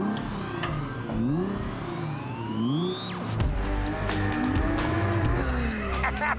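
A Porsche 911 GT3 RS accelerates hard on a track, its engine note rising repeatedly through the gears, with tire squeal and a loud, close roar under a faint voice.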